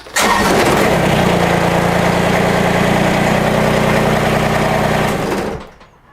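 A small Kubota compact tractor diesel engine cranks and catches, running loud and steady with a rattling clatter for several seconds before cutting off abruptly.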